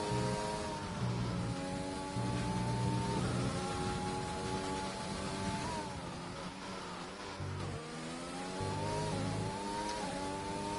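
Formula 1 cars racing around the Hungarian Grand Prix circuit in an F1 esports league game, a steady high engine whine that climbs and dips with gear shifts, with other cars droning along with it.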